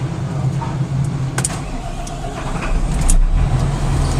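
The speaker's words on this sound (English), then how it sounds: "I'm now going to start the loader." A Volvo wheel loader's diesel engine starting up: a low, rough mechanical rumble that swells louder toward the end as the engine catches and runs.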